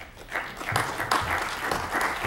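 Audience applause at a civic State of East Metro event as a city official is introduced: a steady wash of clapping from a crowd, moderately loud and continuous for a couple of seconds.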